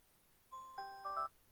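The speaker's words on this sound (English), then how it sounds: "there goes my alarm again" A phone alarm chiming a short rising series of bright electronic tones, fairly quiet and alone, lasting under a second.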